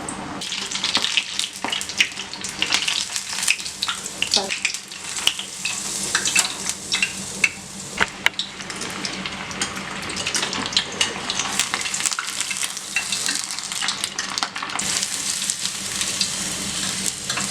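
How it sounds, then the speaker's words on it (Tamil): Chicken pieces frying in bubbling hot oil for Korean fried chicken, a continuous crackling sizzle with scattered sharp pops and occasional stirring, close and steady throughout. "இப்போ அந்த சிக்கனை இதில் போட்டுடலாம். இப்படி போடும் போது இந்த மாதிரி நல்லா கொதிக்கணும், எண்ணெய் வந்து கொதிக்கணும்."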